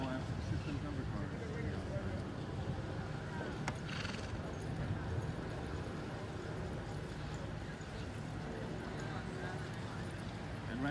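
Horses walking in an under-saddle hunter class at a show, a busy, steady wash of hoof clip-clop with an occasional whinny, heard amid arena ambience and announcer-style talk.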